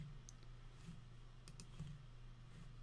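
A computer keyboard is tapped in short, light keystrokes, soft and close over a steady low background hum, while working in Photoshop CC.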